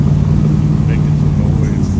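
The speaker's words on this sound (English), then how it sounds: "Got a little crank up on a little Cobra over there" A Cobra car engine runs loudly at a classic car auction preparation, a continuous low, throaty rumble filling the short stretch, with voices mixed in over it.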